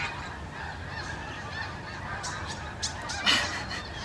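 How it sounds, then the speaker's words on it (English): A large flock of geese flying overhead, honking in scattered calls that grow clearer toward the end, fairly faint and distant over steady outdoor background noise. "there's some birds flying over. Huge flock of geese"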